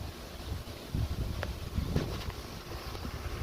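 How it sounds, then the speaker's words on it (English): Wind blowing outdoors on a stormy evening, with a steady broadband rush that swells into louder gusts and buffets the microphone, continuous throughout with no voices. "The wind is coming out of the south-southwest."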